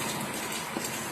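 Steady rain pours down during a super typhoon, a dense continuous wash of falling water with no clear gaps or individual drops standing out.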